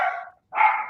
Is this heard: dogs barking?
yes